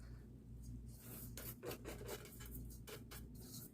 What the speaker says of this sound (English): I like to grate it because it melts better.